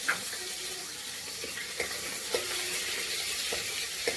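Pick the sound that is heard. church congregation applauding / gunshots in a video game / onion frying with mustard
onion frying with mustard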